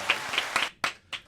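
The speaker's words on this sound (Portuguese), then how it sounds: "Mas nós ainda temos aplausos." An applause sound effect triggered from a podcast soundboard button gives a short sparse run of five or six distinct claps, close and fairly loud, spaced unevenly with brief silences between.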